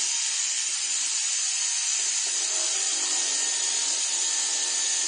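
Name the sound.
rotary tool with 006 round bur making beads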